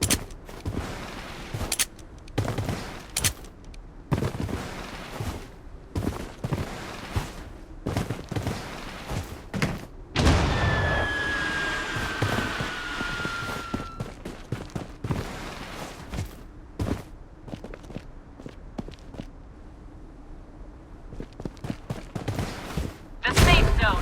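Gunfire in a pistol-only battle royale video game, scattered shots and bursts mixed with thuds and game effects, moderately loud, with speech over much of it.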